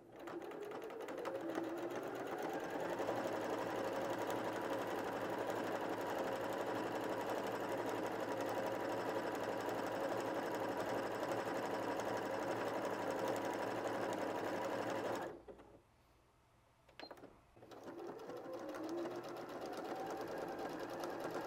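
A sewing machine runs a decorative stitch across patchwork fabric for a small handbag, a loud, steady, close mechanical whir that stops briefly near the end and then starts up again.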